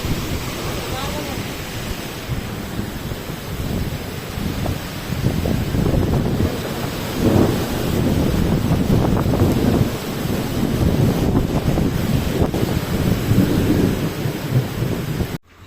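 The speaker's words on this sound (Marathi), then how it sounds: "पावसासंगते वारं वगैरे सगळं सगळं चालू आहे" An unseasonal rainstorm with strong wind hits a village, with a loud, continuous roar of rain and gusts buffeting the microphone throughout.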